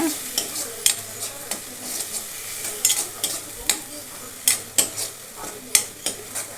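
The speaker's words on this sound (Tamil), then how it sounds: "இப்போ இது எல்லாமே இந்த தக்காளியோட இந்த எண்ணெயோடவே நல்லா மிக்ஸ் பண்ணிக்கோங்க" Tomato and chili powder masala for an egg masala, stirred in hot oil in a pan: a steady sizzle with repeated sharp scraping spoon strokes at an uneven rhythm, close and clear with no talking.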